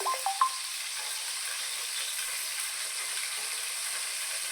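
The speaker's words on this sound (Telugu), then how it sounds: "చూడండి, నూనె అయితే కాగిపోయింది. ఇప్పుడైతే ఉల్లిపాయ ముక్కలు అయితే వేస్తున్నాను." Onion pieces dropped into hot oil, a few brief crackles at the start giving way to a steady, soft, even hiss of frying that continues alone to the end.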